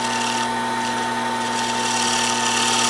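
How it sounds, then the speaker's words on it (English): A wood lathe turns the very top of a lighthouse roof piece with a flat carbide tool, giving a steady, loud, continuous whir with a bright hiss of cutting and a constant motor hum throughout. "I'm turning the very top of the roof here."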